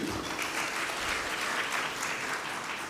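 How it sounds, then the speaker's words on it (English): Applause from an audience at a FICCI event, a brief continuous burst of clapping, even in level and moderately distant, with no talk over it. "a round of applause for the audience"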